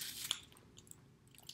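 Someone bites and crunches a salted caramel snack up close: faint, crisp crackles scattered through the moment with small bursts near the start and end, no talk.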